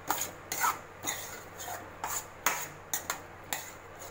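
Intermittent scraping and rubbing of a spoon or spatula in a pan as fried paneer is mixed into a chilli masala over a low simmer, with soft, close strokes coming in short irregular bursts.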